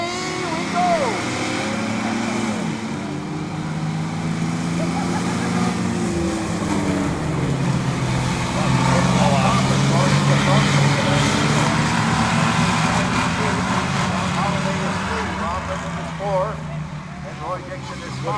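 Race trucks pulling away to start a qualifying run at Iowa Speedway, a loud, steady engine roar that swells in the middle and holds throughout, with a public-address announcer talking over it.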